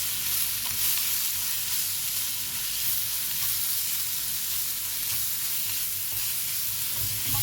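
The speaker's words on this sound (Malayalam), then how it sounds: "നമുക്ക് നന്നായിട്ടൊന്ന് ഇളക്കി കൊടുക്കാം" Capsicum biryani masala sizzles and fries in a pan while a spoon stirs it, a constant close hiss with scraping and light clatter of the pan throughout.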